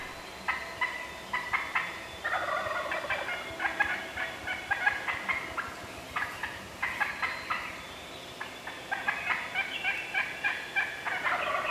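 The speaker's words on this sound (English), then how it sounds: "there's a very dominant hen in the tree. She keeps cutting off all the other hens, and when she starts to call, the toms gobble" Wild turkey hens yelping from a tree, rapid repeated calling in bursts that overlap and cut each other off, steady and fairly close, with no voices.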